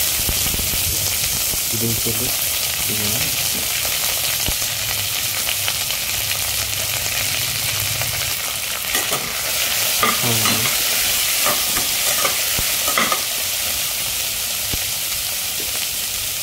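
Whole spices and cumin frying gently on a low flame in a pan for a Bengali chicken dish, a steady soft sizzle with occasional stirring scrapes and clinks throughout.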